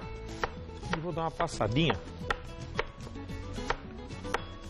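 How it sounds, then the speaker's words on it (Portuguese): A knife chops green onion on a cutting board in quick, uneven taps, close and clear, with a voice speaking briefly over the chopping. "Vou picar a cebolinha aqui desse jeito"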